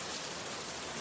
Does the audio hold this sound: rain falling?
yes